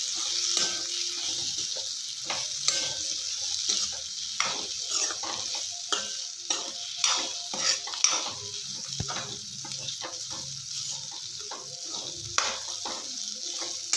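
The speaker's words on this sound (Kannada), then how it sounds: "ಇವಾಗ ಇಟ್ಟಿರೋ ಹೀರೆಕಾಯಿ ಹಾಕೊಳ್ಳೋಣ ಚೆನ್ನಾಗಿ ಮಿಕ್ಸ್ ಮಾಡ್ಕೊಳ್ಳೋಣ" Ridge gourd pieces being stirred through hot oil in a pan for palya, a steady sizzle with frequent scraping and clinking of a spoon against the metal, close and continuous without talk.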